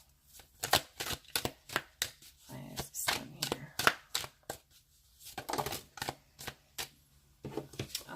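Tarot cards being shuffled and handled up close, with repeated quick riffling and slapping bursts in an uneven rhythm and short pauses between them, with no talking.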